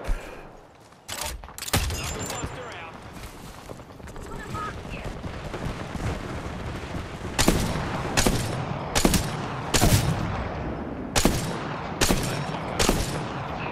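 Apex Legends gunfire in a busy fight: several sharp, loud shots and short bursts ring out at irregular intervals over a steady bed of game noise and movement, growing more frequent toward the end.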